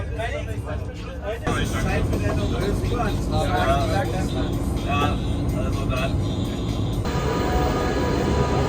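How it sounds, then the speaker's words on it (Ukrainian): Constant rumbling hum inside a moving German passenger train bound for Leipzig, with people talking over it and a shift in the noise partway through. "Потяг звичайний німецький, нічого особливого."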